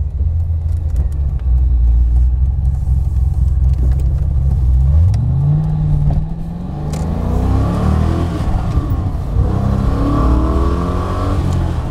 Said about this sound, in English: I'm going to put some lights on and we'll see what a difference a V8 engine makes